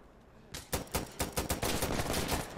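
Gunfire in the video game Insurgency Sandstorm, a series of loud, close rapid shots in quick bursts followed by sustained automatic fire.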